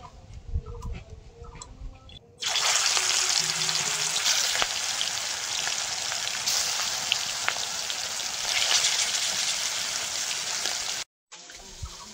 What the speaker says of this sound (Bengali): মাছ ভাজা করার জন্য কড়াইতে তেল দিয়ে দেবো।